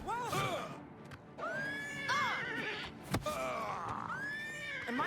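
Horse neighing in a video game, several loud whinnies close by with a few thuds and clip-clop between them.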